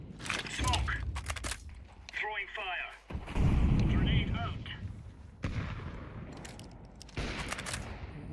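Grenade and incendiary throws amid gunfire in a Counter-Strike 2 match at IEM Cologne, with dense heavy blasts, rapid shots and a burning roar, while voices talk over the action.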